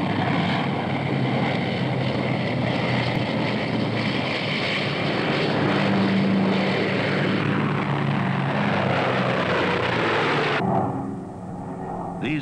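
A 1950s propeller aircraft used to help surface ships locate missile nose cone data capsules drones steadily and loudly throughout, with a low engine hum and a broad roar that fades slightly at the end.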